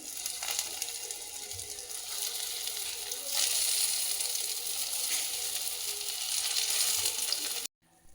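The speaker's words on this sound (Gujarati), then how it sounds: "હવે આપણે એને ફ્રાય કરી લઈશું શેલો ફ્રાય કરવાની છે" Potato patties shallow frying in hot oil in a pan, giving a steady close hiss and crackle that grows slightly louder partway through and then cuts off abruptly at the end, with no speech.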